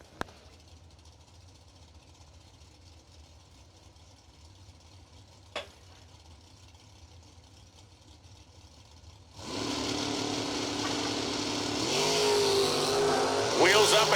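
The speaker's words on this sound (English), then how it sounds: "Wheels up and gone for the wagon, and here comes Allison Prose in the dragster" At a drag race, a dragster and a wheel-standing 1968 Rambler station wagon launch, a low rumble building suddenly into loud roaring engines that swell further, with an announcer talking over the scene.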